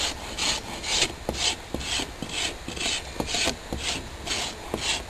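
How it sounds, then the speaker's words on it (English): Squared-off spine of a machete blade scraped along wood like a planer, a steady series of rough rasping strokes, roughly ten in rhythm, close and clear with no talking. "What I'm using is the squared off spine of the machete blade."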